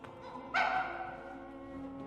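An animated cartoon dog gives a single sharp yelp that trails into a soft whimper, fairly faint and set against a steady background tone.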